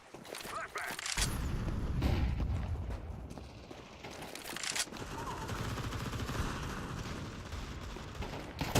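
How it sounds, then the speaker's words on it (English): A flashbang grenade goes off in a video game round with a loud blast, then a long ringing wash of noise and scattered gunfire, while players talk over it. "Flashbang."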